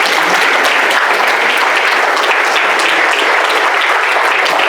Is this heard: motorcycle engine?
no